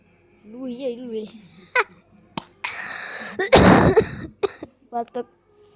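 A person coughs in a few harsh, breathy bursts mixed with vocal sounds and what seems like speech, close to the microphone and loud.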